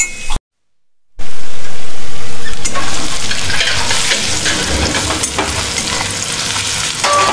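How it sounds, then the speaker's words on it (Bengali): Whole cumin and a bay leaf hit hot oil as a tempering in a home Bengali kitchen, giving a loud, steady close sizzle after a brief silent gap, with faint stirring clinks under it. "এখানে ফোড়নে জিরে আর তেজপাতাটা দিচ্ছি"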